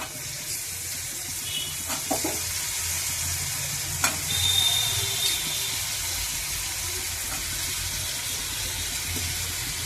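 Brinjal pieces sizzle and fry in browned masala in a pan, with steady stirring scrapes and a few sharper clinks throughout, close and continuous with no talk.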